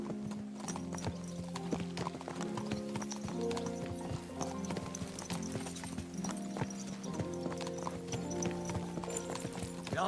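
Hooves clip-clop steadily on a road in Kingdom Come: Deliverance II, a horse occasionally whinnying, layered over a continuous game music bed with no talk.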